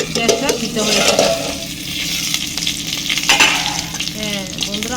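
Onions frying and being stirred in a pan for an egg-and-onion dish, a steady loud sizzle with scraping stir strokes running throughout.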